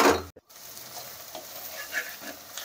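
Mutton chukka sizzles and fries in a pan while being stirred, a steady close hiss with brief scraping stirs and one short break near the start.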